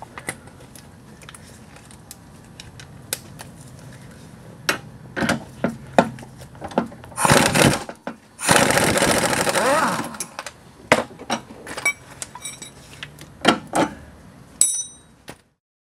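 Hand tools working the sway bar end link on an Audi A4 B5 1.8T: scattered sharp metallic clicks and ratcheting, then two louder bursts of wrenching or prying, with more clicks trailing after. The work is close by, and a voice speaks at times.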